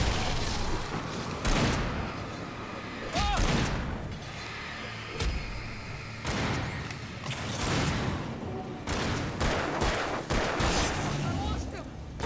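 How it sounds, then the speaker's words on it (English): Gunshots fired in the video game Alan Wake, heard as a series of loud, sharp blasts spread across the clip with a noisy game backdrop and a voice talking in between. "Shooting!"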